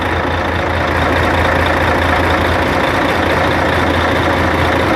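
A truck idles in Saudi Arabia with a loud, steady diesel rumble and a constant low drone, and no talking over it.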